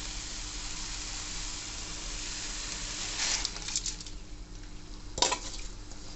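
Washed rice and lentils fry in hot, spiced oil for khichuri, giving a steady close sizzle with a couple of louder scraping stirs of the spoon through the pan.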